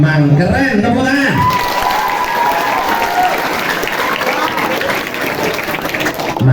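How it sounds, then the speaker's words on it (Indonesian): Loud crowd applause with some cheering at a Ramadan Quran recitation gathering, rising right after a voice and holding as a dense, close wash of clapping for several seconds before speech returns at the end. "tepuk tangan."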